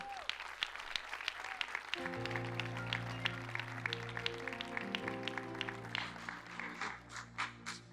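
Congregation in a Spanish-language church service applauding the Lord, a steady wash of many hands clapping throughout, with sustained organ or keyboard chords entering beneath and the clapping thinning into a few distinct claps at the end.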